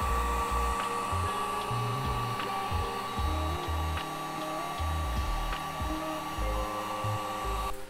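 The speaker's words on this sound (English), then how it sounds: "I need to heat shrink both of these." Heat gun shrinking heat-shrink tubing on wire joints for a Christmas-light dipole antenna, a steady blowing whir with a thin tonal hum and uneven low rumbles, fairly quiet and continuous.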